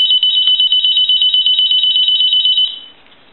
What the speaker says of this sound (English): So we'll go ahead and ring the telephone.